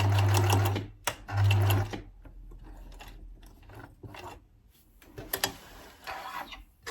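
A sewing machine stitches a denim Quebec skirt in two loud bursts of whirring, then quieter handling and rustling of fabric follows with a few brief mechanical clicks and a short final run.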